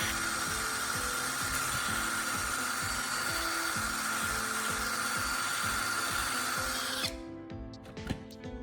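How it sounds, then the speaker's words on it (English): A power drill bores a hole in the side of a plastic charging case, whining loud and steady with a rhythmic pulsing grind for several seconds before it stops, leaving faint clicks and handling noise. "I'm going to use a drill to make a new hole on the side of the charging case."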